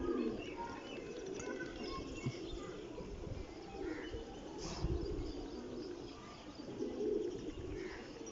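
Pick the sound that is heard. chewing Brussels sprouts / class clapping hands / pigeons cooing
pigeons cooing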